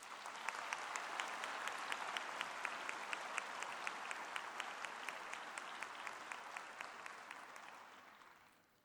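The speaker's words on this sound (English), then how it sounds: "I request the audience to acknowledge their achievements by giving them a resounding round of applause." An audience at a university graduation ceremony gives sustained applause, a soft, distant wash of many hands with sharper individual claps, fading toward the end.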